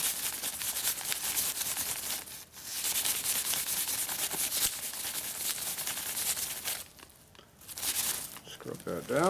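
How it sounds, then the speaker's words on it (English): A scrub pad rubs back and forth over a corroded part on a 1988 Harley FXR, giving harsh, close abrasive strokes in bursts with short pauses between. "So I'm going to scrub pad that a little bit."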